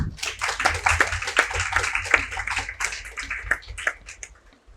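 An audience claps for dignitaries being welcomed with roses at an India–Europe dialogue event, the hand claps sharp and irregular, steady for several seconds before thinning out at the end.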